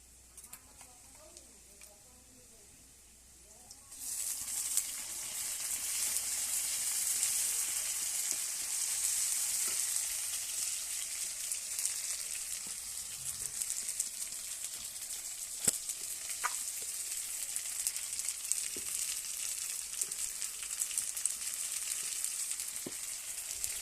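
Masala hits a hot pan for potato curry and sets off a sudden loud, steady sizzle that runs on with occasional pops and stirring clicks, after a few seconds of quiet talk.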